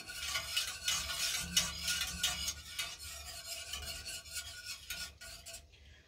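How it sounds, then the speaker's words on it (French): A dye bath stirred to mix in pigments, with quiet rhythmic scraping, swishing and rubbing strokes close up, and no voices. "On remue pour bien mélanger."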